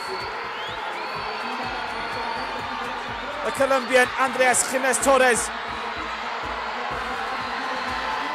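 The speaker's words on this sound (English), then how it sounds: "look at the roar, look at the cheer" Spectators roar and cheer at an inline speed skating race at the 2023 Pan American Games, a swelling burst of crowd noise rising over steady background chatter, with a commentator talking throughout.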